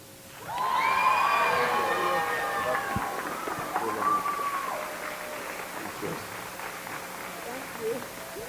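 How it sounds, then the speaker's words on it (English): Audience at a school 8th grade awards ceremony applauding and cheering a Grit Parent Award winner, a steady wash of clapping with raised voices and whoops that starts loud, then gradually thins and settles lower. "Keep that applause going."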